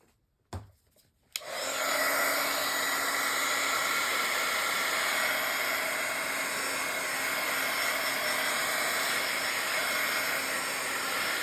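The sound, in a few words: hair dryer drying ink on journal page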